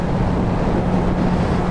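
Strong wind buffets the microphone of a car travelling on an open highway, a steady, loud, broadband rumble with a low road drone running continuously and no voices.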